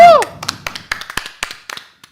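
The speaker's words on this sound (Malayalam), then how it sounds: "ഒരു കൈയടി പ്ലീസ്" An audience claps in scattered, uneven bursts, a dozen or so sharp claps tapering off over two seconds, preceded by a brief voice.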